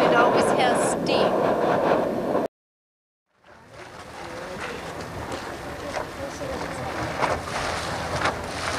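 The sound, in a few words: steam vent hissing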